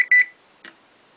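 An Arduino-built multifunction alarm clock gives two quick electronic beeps in close succession, followed by a fainter, shorter chirp about half a second later, close and clear with no talking.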